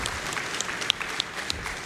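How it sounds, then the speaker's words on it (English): Applause from the live audience at Summer Games Done Quick 2023 during an Elden Ring speedrun, a dense continuous patter of clapping at moderate loudness, with no talking over it. "That's a round of applause for sure"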